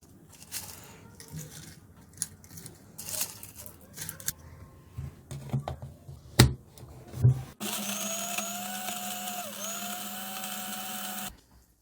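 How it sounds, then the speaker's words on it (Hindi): A kitchen mixer grinder whirs steadily for about four seconds as it grinds roasted spices for chicken mandi, loud and close. Before it starts there are softer kitchen clatters and a couple of sharp knocks. "अब हम इसको मिक्सी में डालकर ग्राइंड कर लेंगे।"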